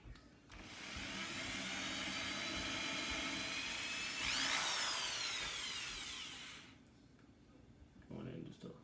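A power drill with a small bit bores shallowly into a board only about half an inch wide while drawer slider mounts are installed, a steady high whine lasting roughly six seconds, its pitch briefly sweeping before it winds down.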